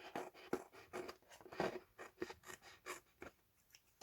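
Scissors snip through A4 card at a craft table in a quick run of short, crisp cuts at close range, with no talk over them.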